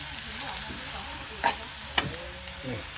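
Ingredients for a Northern Thai curry are stir-roasted in a pan, with a soft, low sizzle and a few distinct scrapes and knocks from the utensil, quiet and close.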